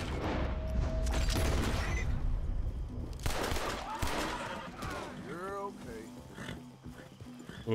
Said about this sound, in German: Ich hasse das Pferd zu erschießen in dem Spiel.